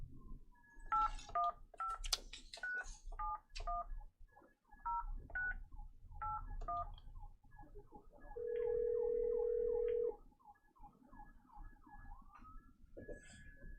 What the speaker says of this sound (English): First is by phone, Mr. Jonathan Schinnebarger, and I will call him right now.